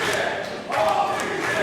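Wrestling arena crowd at a live Texas pro championship match, chanting and shouting together in a loud, sustained roar that swells after a brief dip.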